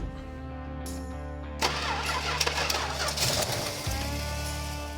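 A 1970 Plymouth Hemi Cuda engine cranks briefly, then catches and roars to life, settling into a loud, steady idle with some revving.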